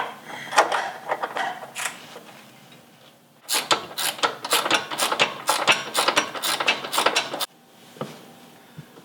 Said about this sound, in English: you need to get on the back side with a, what is that, 15mm wrench. And you can take the nut off from back here.